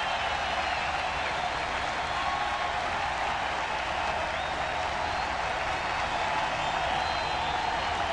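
Baseball crowd in Kansas City's stadium applauding steadily, a dense broad wash of clapping from thousands of fans that holds evenly throughout, distant and continuous with no clear voices.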